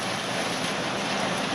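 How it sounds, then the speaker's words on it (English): Rain falls outside a workshop as a steady, dense broadband hiss, fairly loud and unbroken, with no talk over it. "I got rain outside, that's what that noise is."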